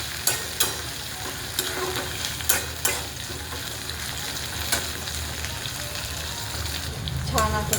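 Tomato pieces sizzle in hot oil in a pan alongside already-browned onion, a steady frying hiss broken by sharp scraping knocks of stirring, close and loud, with no talking.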